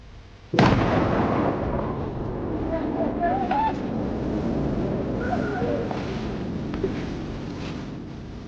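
An explosion following a fire in the hole warning: a sudden loud blast that rolls into a long, rumbling decay, with faint distant voices and squeaky sounds in the tail.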